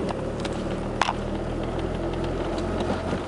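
A 100-horsepower Suzuki Cappuccino EA11R with its turbo not yet working hums steadily while driving slowly, a low, even engine drone with faint road noise and a brief knock partway through.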